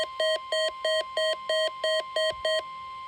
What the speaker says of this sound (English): This has been a test of the NOAA weather radio tone and same alert systems.